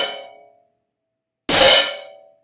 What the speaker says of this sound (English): the way you do a choke is you do the same technique, except you pull it right into your body right away.